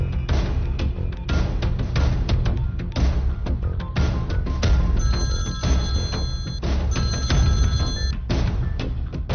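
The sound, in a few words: telephone ringing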